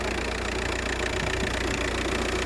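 A diesel car engine idles with a steady, low rumble, continuous with an even mechanical vibration and faint knocking texture, close by and unchanging throughout.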